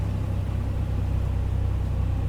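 A simulated Cessna 182 piston engine in the A2A flight simulator settles to idle, a steady low droning rumble with a throbbing pulse, continuous and fairly loud, with no voices.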